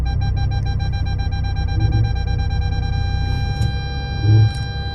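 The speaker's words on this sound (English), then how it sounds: "Now I reversed the car back just on the drive here" A car reversing back on a home driveway, its engine a steady low rumble with a constant electronic tone over it and a couple of brief bumps, with no talk.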